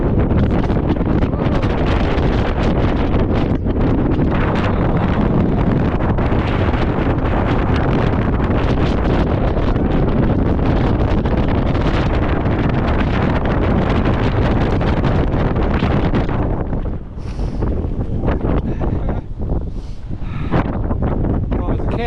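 Strong wind roars and buffets against the microphone almost continuously on a mountain summit on the Coniston Old Man round, loud and gusty, easing briefly in short lulls toward the end.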